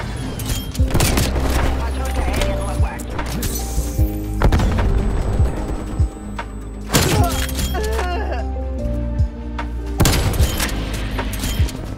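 Repeated Swiss K31 rifle gunshots in a video game, loud booming shots every couple of seconds with echoing tails over continuous game noise, while a player talks excitedly.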